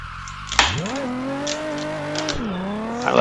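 Race car at Raleigh International Raceway, engine revving up sharply, holding a high steady pitch, then dropping and climbing again as the driver works through the gears, loud and close with no speech.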